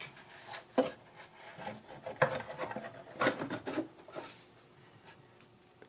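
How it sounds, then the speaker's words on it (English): A 1985 Casio AS-20 keyboard amplifier's control panel is lowered back into its speaker enclosure, giving a few sharp close knocks and light rubbing, scraping handling noises in between. "And now I can lift and place the control panel back into place."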